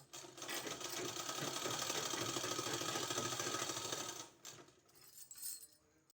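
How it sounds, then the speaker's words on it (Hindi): A sewing machine runs in a rapid, even stitching rhythm as it sews a thin strip onto a kurti neckline, steady and close for about four seconds before slowing to a stop with a few softer mechanical clicks. "इस तरह से पतला सा सिलाई लगाना है।"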